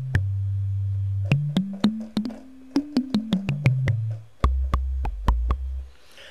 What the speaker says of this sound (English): now when I play my keyboard